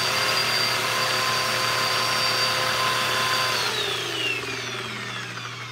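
A vacuum cleaner with an off-balance brush roll runs with a loud steady whine and hum nearby, its pitch sliding down as the motor begins winding down near the end.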